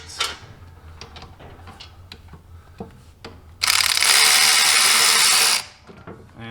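Ratchet wrench loosening a foot pedal bolt on a Kubota L2501 tractor: a short run of ticks and clicks, then a loud, steady two-second buzz of rapid ratcheting close by, with no talking.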